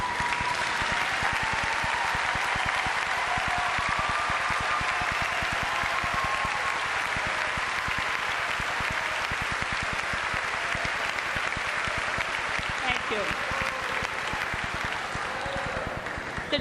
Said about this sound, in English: If they would stand and receive a round of applause,